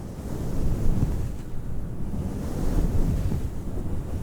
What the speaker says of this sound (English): I'm gonna rub it on the microphone.